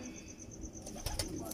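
Tubelight pigeons of a prized breed coo softly and flutter their wings nearby, a faint low cooing with brief flapping bursts near the end.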